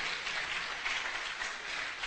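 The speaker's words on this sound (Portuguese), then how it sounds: "Dá um aplauso para Jesus, dá." Applause from a church congregation, a steady wash of clapping held evenly for about two seconds at moderate distance, with no talk over it.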